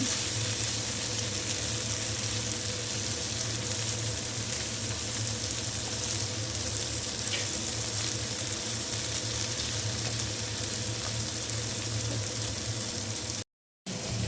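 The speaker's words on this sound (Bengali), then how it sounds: "আমি বেশ কিন্তু পনিরগুলোকে উল্টে পাল্টে ভেজে নিচ্ছি" Paneer cubes frying over a medium flame, turned now and then in a pan, give a steady, close sizzle with no talk, cutting out briefly just before the end.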